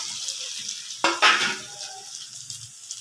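Prawns hit a hot pan with ginger and garlic, setting off a sudden loud sizzle that fades to a steady crackling fry, with a clink of utensils.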